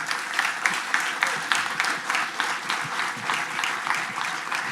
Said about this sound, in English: Will you please give Nikolay a great applause?